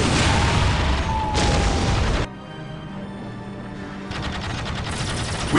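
Heavy automatic gunfire and booming blasts in the Warhammer 40,000 strategy game Dawn of War: Dark Crusade, loud, dense and continuous, easing briefly to a lower rumble midway before the bursts of fire swell back up.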